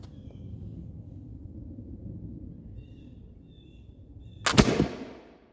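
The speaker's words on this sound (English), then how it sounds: "Next shot at 40 yards." A single flintlock rifle shot fired at 40 yards, one loud sharp crack near the end that decays quickly, following several seconds of low outdoor rumble.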